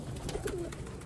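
Sialkoti black-mouthed pigeons coo softly at close range, a brief low throaty call over a steady background hum, with no voices.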